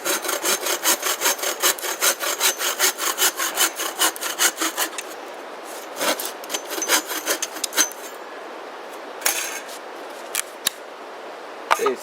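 A hand saw cuts up wood for firewood at a camp, brisk rhythmic back-and-forth strokes close by, then the sawing stops and gives way to scattered rustles and knocks.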